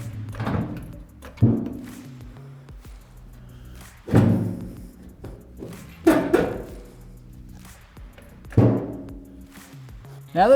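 A gas tank being set into place under a Chevy C10 pickup, heard as several heavy metallic thuds and clunks spaced a couple of seconds apart, with scraping and shifting between impacts.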